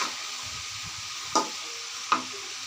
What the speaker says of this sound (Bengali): এখন এগুলো আমি ভালো করে